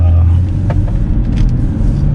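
BMW 340i being driven on the road: a steady low engine drone and road rumble heard from inside the cabin, loud and continuous, with a voice briefly talking over it.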